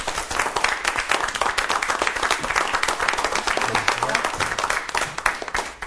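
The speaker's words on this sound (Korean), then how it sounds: "큰 박수로 맞아주시기 바랍니다." Audience at a lecture on military and presidential leadership gives a lecturer warm, close applause, dense rhythmic clapping that continues for about six seconds with no talk.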